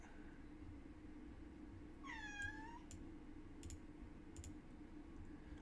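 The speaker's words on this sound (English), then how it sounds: "you guys can hear the cats in the background" A cat gives a single drawn-out, wavering meow in the background of a quiet indoor room, with a steady low hum and a few faint clicks that sound like keyboard taps.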